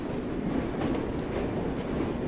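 A video-game train runs steadily on its rails with a continuous rumbling clatter and a faint high squeal, loud and close with no voices.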